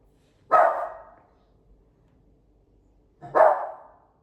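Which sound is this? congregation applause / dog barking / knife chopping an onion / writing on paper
dog barking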